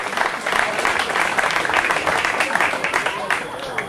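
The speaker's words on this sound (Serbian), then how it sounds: "Molim vas, veliki aplauz za Ivana." An audience at the opening of the Sovljak painters' colony in 2018 applauds painter and poet Ivan Vešić, with sustained, lively clapping under some background voices.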